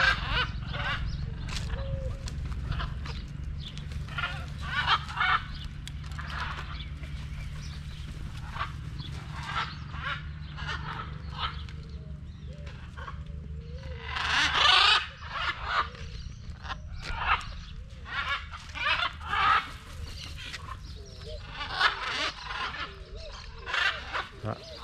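A flock of macaws screeches and squawks in a town square park at Ilha Solteira, Brazil, with many loud overlapping calls in bursts throughout, close by, while someone talks over them.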